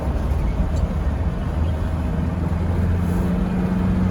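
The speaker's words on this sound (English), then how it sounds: "The cabin is a little bit noisy, I suppose because of being an older car there's less soundproofing" Cabin of a 1974 BMW E12 520 on the move, filled with a steady low engine drone and road rumble, with someone speaking over it.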